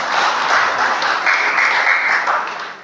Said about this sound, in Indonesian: Tepuk tangan buat kamu lagi sekali.